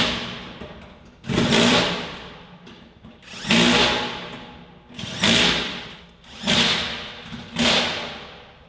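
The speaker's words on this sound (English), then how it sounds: "So the plan is to start drilling and see how much we can get done." Four loud, drawn-out mechanical bursts of a power drill on a metal Quonset hut building, each rising sharply then fading, spaced about two seconds apart with a steady hum between.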